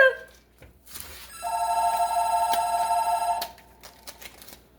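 A telephone rings during a phone call from a telemarketer, one sustained electronic trilling ring lasting about two seconds at moderate volume in a kitchen, with faint background noise before and after.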